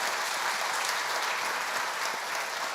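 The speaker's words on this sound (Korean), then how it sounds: "우리 가족들 박수 한번 할까요?" A church congregation claps together at a pastor's installation thanksgiving service at Namwon Jungang Church, producing dense, sustained, fairly loud applause with no voices over it.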